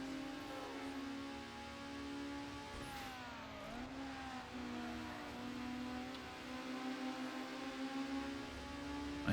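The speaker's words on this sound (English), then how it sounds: "I hear you using nitrous." Car engine in a racing video game surging under nitrous boost, a steady drone that dips and sweeps up in pitch as it accelerates, heard alone at moderate level.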